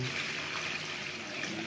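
Water pouring into a cooking pot of beef shanks being softened for Batangas-style bulalo, a steady broadband splashing rush that holds evenly throughout at close range.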